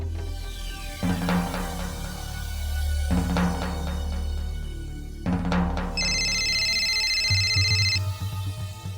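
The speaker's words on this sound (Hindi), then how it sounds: "मीनाक्षी का फोन" A telephone rings repeatedly in steady pulses, with a separate electronic tone sounding in between, fairly close and clear.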